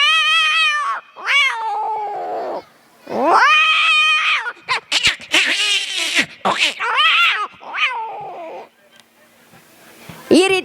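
A mimicry artist imitates a cat fight with his voice during a comedy show, producing loud, rising and falling yowls, meows and snarling caterwauls in rapid bursts, with short breaks between outbursts.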